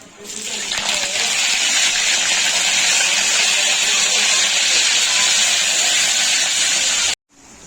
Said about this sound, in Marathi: जिरं तडतडून घ्यायचं आहे